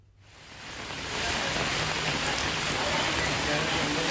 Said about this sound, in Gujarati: અહીંયા ધોધમાર વરસાદ આ જ રીતે ખાબકી રહ્યો છે